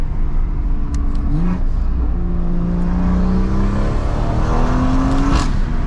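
BMW M240i (F22) with a turbocharged B58 engine pulls hard under acceleration, its rising engine note climbing through gears with brief dips at shifts, heard from inside the car with windows cracked over steady road and wind roar.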